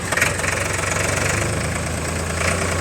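A Powertrac 439 tractor engine idles steadily nearby, with a continuous low, knocking diesel rumble and slight vibration that holds an even level throughout.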